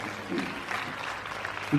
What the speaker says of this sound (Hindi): तालियां बजाते रहो तुम